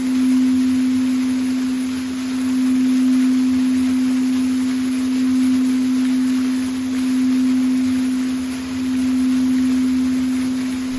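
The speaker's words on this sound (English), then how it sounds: "Now allow the singing bowl's tones to fill the space." A singing bowl rings with a steady, pure hum that swells and fades in slow, gentle pulses over a soft hiss, sustained and alone for several seconds.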